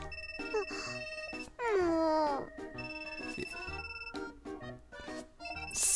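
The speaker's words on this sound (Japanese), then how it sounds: "けたたましい電子音を張り上げるスマホを二人で見る。" Smartphone ringtone in the visual novel Wagamama High Spec OC: a shrill electronic melody of steady, sustained beeping tones repeating throughout, briefly joined midway by a wavering, voice-like wail.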